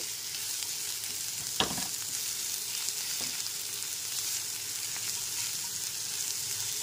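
Carrots with salt sizzle in a pan over a medium gas flame, making a constant soft frying hiss, with one clear scrape of a stirring spoon and a few fainter taps.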